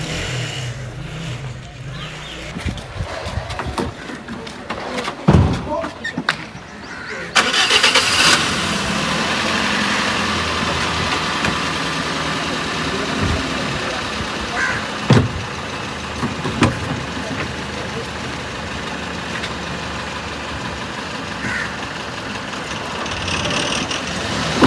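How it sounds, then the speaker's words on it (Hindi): A car engine starts up and runs steadily as the vehicle pulls away, a continuous mid-pitched drone holding level after a burst of handling noise, with people talking over it. "तो अभी हमारी गाड़ी आगे निकली भाई"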